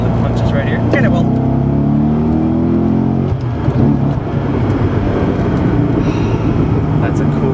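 A Chevrolet Corvette Z06 supercar accelerating hard, its engine note climbing loudly and steadily for about three seconds before easing into a lower, rougher rumble, close to the microphone.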